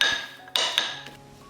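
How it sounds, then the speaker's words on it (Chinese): Soft dough for a braided sweet raisin loaf is slapped to press out air, giving three sharp, close slaps spaced a few tenths of a second apart against a quiet steady background hum. "面团光滑面朝下，拍打排气"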